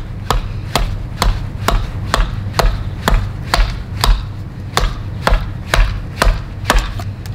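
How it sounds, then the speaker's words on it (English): An axe strikes green wood while carving a spoon blank, giving a steady series of about sixteen sharp, close chopping knocks at a regular rhythm of roughly two per second, with no talking. "And I can again move the spoon as I'm axing."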